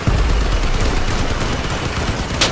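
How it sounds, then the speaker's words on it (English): Machine guns fire in Crossout during a vehicle battle, a dense rapid rattle of loud close shots running without pause, with a sharper burst at the end. "while firing at him with machine guns"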